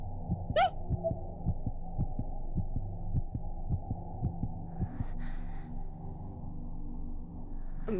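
Heartbeat sound effect in the horror video game Corpse Party: Blood Drive, a steady series of low thumping beats over a droning hum, with a couple of brief higher chirps and a short noise burst partway through.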